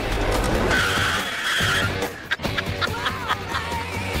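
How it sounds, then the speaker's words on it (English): A car skids hard under braking, a long loud tire squeal lasting over a second, followed by excited voices and laughter nearby. "when he hits the stop line, he slams on the brakes."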